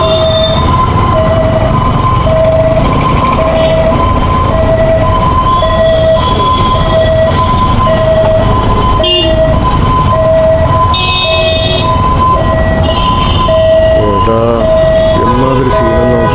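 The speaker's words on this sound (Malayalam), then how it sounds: "ആംബുലൻസ് നിൽക്കുന്നുണ്ട്, അവിടെ ബ്ലോക്ക് അടിച്ചിരിക്കുന്നു" An ambulance stuck in a traffic jam sounds its siren in a steady, repeating two-tone wail, loud and close, among constant traffic noise and horns.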